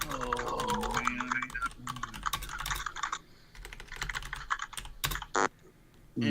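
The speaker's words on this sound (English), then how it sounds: "now you're pounding that keyboard" Fast, hard keystrokes on a computer keyboard clatter close by in dense bursts, partly under a voice and background noise, then a few louder isolated clacks.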